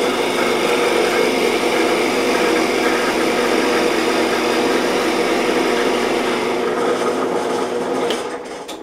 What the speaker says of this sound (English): I will drill down to about this depth on the shallow side